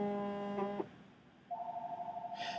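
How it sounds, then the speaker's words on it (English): A telephone goes off in a radio studio during a live talk program, giving a short harmonic electronic tone that cuts off, then a steady pulsing single tone after a brief gap, with no talking. "I got all kinds of phone calls going off at the moment."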